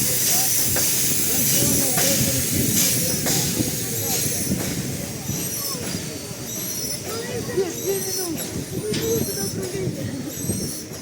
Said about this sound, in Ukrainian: йдемо подивимось. Як рушатиме ретро потяг.